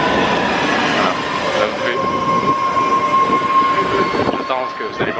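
A subway train at Kendall/MIT station runs past with a loud, steady rumble and rail squeal, then fades as it leaves; a person speaks briefly during the passage.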